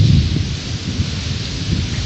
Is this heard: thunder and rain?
yes